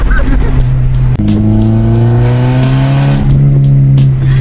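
Toyota MR2 Spyder with a full catless exhaust, heard from inside as the engine drones loudly and rises in pitch under acceleration, with a gear change near the start, a steady raspy exhaust note filling the cabin.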